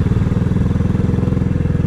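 A semi-automatic motorcycle engine runs in first gear with a loud, close, steady rapid thumping pulse and a low mechanical chug. No one talks.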